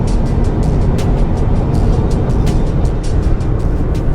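Loud, steady road roar and rushing wind from inside a Mercedes-Benz GLC 300 Coupe driving at about 210–220 km/h, continuous throughout with faint rhythmic ticks.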